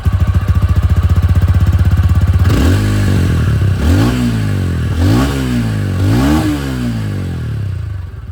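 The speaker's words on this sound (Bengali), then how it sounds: "এক্সস্ট সাউন্ডটা আপনাদেরকে একবার শুনিয়ে দিই।" Cruiser motorcycle engine idling with a steady low exhaust thump, then blipped through a series of four or five sharp revs that rise and fall back, close and loud with no talking.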